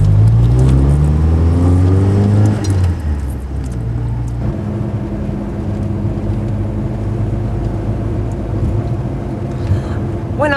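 A car drives along with a steady engine drone and road rumble, and the pitch shifts as it changes speed, continuous and fairly loud throughout.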